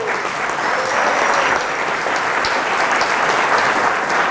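An audience at a Spanish-language security conference talk on Win32k exploitation breaks into loud, dense, sustained applause that fills the room evenly for several seconds, with a faint voice or whistle tone rising above it.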